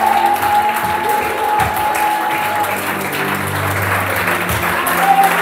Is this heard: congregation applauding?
yes